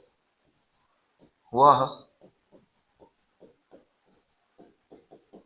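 Handwriting during a chemistry lesson on precipitation reactions: a series of short, evenly spaced scratchy strokes, close and fairly quiet, with one brief spoken word partway through.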